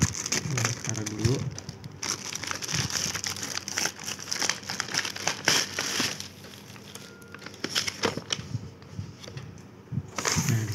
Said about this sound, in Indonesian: kita coba lihat hadiahnya apa. Mari kita unboxing.